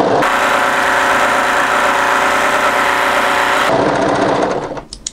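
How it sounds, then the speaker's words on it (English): An overlocker runs continuously as it stitches the hemline of a cropped knit military-style jacket, giving a fast whirring motor drone that holds steady, shifts in tone near the end, then stops abruptly. "now come to the hemline and overlock tidy that as well"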